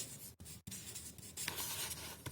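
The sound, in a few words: writing on paper during a math lesson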